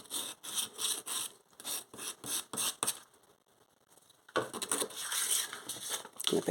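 Rhythmic scraping strokes of 240 grit sandpaper against a wooden lace bobbin stacker, close and fairly quiet, pausing briefly before a denser burst of rubbing.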